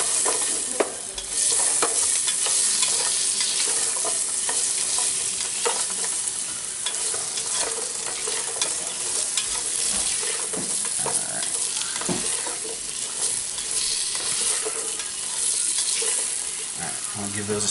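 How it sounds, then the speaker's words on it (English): Onions sweat with spices in a soup pot for a bean soup, giving a constant loud sizzle broken by scraping stirs of a spoon throughout. "while I'm sweating my onions. It helps the oils and flavors come out of the spices."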